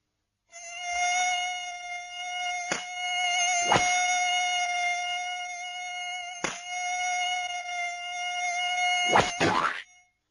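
Steady high insect-like whine of a buzzing mosquito, loud and continuous for about nine seconds, with a few sharp clicks and thumps cutting through.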